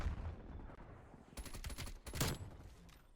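Rapid bursts of KSP 45 submachine gun fire in Call of Duty: Cold War, clustered shots in the second half over a busy game-combat backdrop, fairly close and moderately loud.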